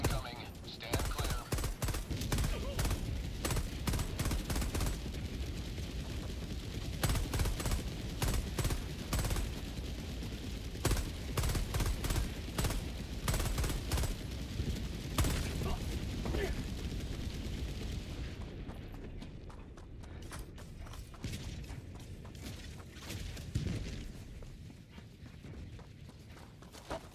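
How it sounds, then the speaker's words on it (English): An orbital barrage in the Helldivers 2 video game, a dense, sustained run of rapid booming explosions and gunfire-like blasts that thins out near the end, with a voice speaking intermittently over it. "Orbital barrage incoming. Stand clear."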